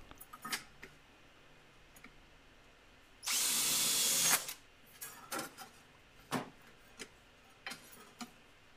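Light clicks and taps, then a brief burst of a power drill whirring for about a second as it drills a metal can lid, followed by scattered ticks and knocks of handling.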